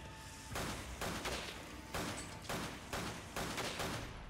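Gunfire in the video game Resident Evil 5, a rapid series of loud, evenly spaced bursts of shots repeating roughly every half second, with no talking over them.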